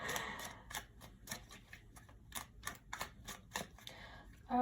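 Tarot cards are shuffled out of a deck in a quiet room, a series of crisp riffling and slapping bursts in irregular rhythm, close and soft, with brief pauses between them.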